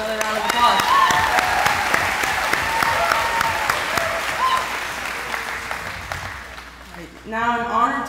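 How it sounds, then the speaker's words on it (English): A crowd at a high school graduation bursts into sustained applause that gradually fades. Voices and cheers come through the clapping, and someone speaks as it dies down. "Can we give her another round of applause?"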